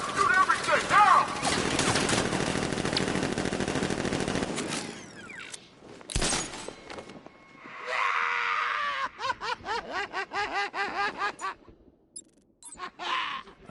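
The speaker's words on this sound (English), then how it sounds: "Open fire! Shoot everything," Militia ambush gunfire in Batman: Arkham Knight, a sustained loud barrage of automatic fire, then a sharp blast and a rapid string of separate shots, with shouting voices mixed in.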